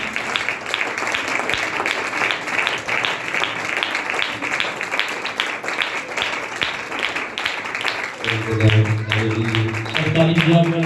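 Strong applause from a church gathering, dense broadband clapping for most of the stretch, with a tonal voice or music rising near the end over the continuing claps.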